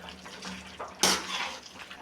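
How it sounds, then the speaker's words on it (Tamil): Water splashes into a pot of chicken curry in a home kitchen: one brief, quiet burst of pouring after soft background noise. "தண்ணி சேர்த்தேன், மறுபடியும் தண்ணி சேர்க்குறேன்"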